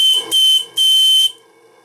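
Steam whistle on a live steam RC model boiler, sounding two loud, shrill, steady blasts with a short gap between them before fading away.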